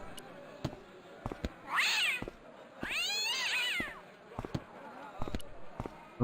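A cat meows in the point-and-click game Broken Sword: Shadow of the Templars Director's Cut. There are two drawn-out, wavering meows, separated by scattered light taps and clicks.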